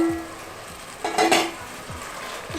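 Chicken pieces drop into a hot pan of ginger garlic paste and sizzle loudly, a burst of frying hiss swelling midway, with light scraping of a spoon stirring around it.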